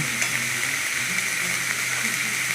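Soaked chickpeas frying with papaya, potato and spices in a pan, a loud continuous close sizzle with light stirring, no talking.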